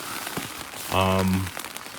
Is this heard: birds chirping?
no